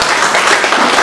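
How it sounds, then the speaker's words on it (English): Brief burst of dense applause from a press briefing audience, loud and close, lasting about a second. "give yourselves a round of applause"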